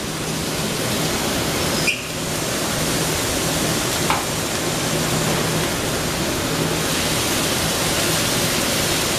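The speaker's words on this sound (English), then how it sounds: "Just going to rinse this knife off." A kitchen knife rinsed under a steady stream of running tap water while preparing lobster, giving a continuous broad hiss with a brief clink of the blade partway through and another faint tap later.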